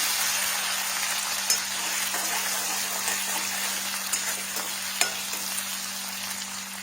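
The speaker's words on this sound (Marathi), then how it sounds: "लसूण, कढीपत्ता, थोडंसं भाजून घेऊया।" Garlic, green chilli and curry leaves frying in oil for a Maharashtrian potato bhaji, a steady hissing sizzle with a few faint spatula taps, close and moderately loud without speech.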